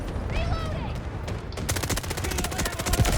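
Rapid automatic gunfire in the Delta Force shooter game, a steady run of close, evenly spaced shots that starts partway through and fills the rest of the moment over low background noise.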